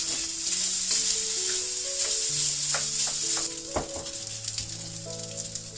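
Chicken stir fry with sambal sauce sizzles steadily in a pan, a loud continuous hiss with occasional clinks and stirring knocks throughout.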